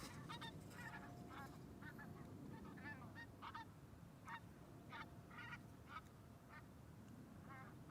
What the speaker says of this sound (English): And I also am hearing a flock of geese.